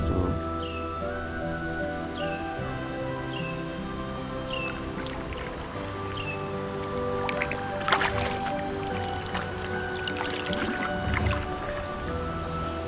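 Kayak paddling through a still, stagnant creek slough in Florida cluttered with tree limbs, with soft paddle dips, drips and water squishes close by, a few brighter splashes, over quiet outdoor ambience with faint birds.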